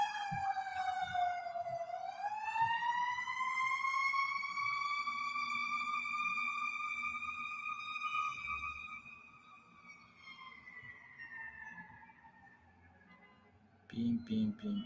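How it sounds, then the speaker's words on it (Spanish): A siren passing outside gives a long, wavering wail that rises, holds and slowly fades, then ends in a few short clipped sounds. "Vamos, esperar que pase la sirena."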